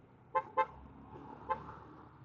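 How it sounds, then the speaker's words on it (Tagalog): Three short motorcycle horn toots, two quick ones then a single later beep, faint against low traffic rumble. "Buti na lang malakas ang busina natin."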